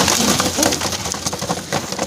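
Pigeon cooing in a loft where the bird is being tamed, soft repeated coos close by over a steady bed of background noise.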